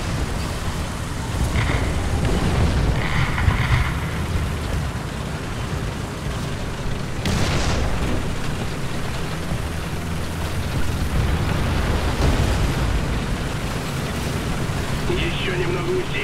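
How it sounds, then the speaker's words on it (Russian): Artillery shelling in War Thunder, with an SU-152 in play, rumbles as a continuous low roar of distant explosions and rolling booms, one sharper blast in the middle, while voices talk over the din. "Артиллерия бьет в наш сектор!"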